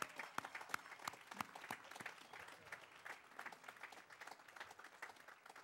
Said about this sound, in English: Let's give them a big round of applause and thank them for that.